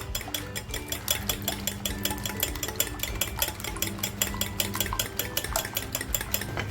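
Eggs seasoned with salt and black pepper are whisked in a bowl, giving a quick, rapid clatter of utensil against the dish in a steady rhythm, close by and continuous with no talking.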